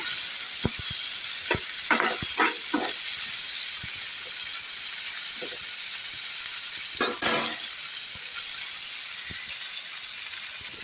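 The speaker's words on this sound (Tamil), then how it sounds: "தக்காளி போட்டுடலாம் தக்காளி நல்லா வதங்கட்டும்" Tomatoes sautéing in a pan for Bombay chutney, giving a constant bright hiss of frying with scattered clicks and a few stirring scrapes, close and without talk.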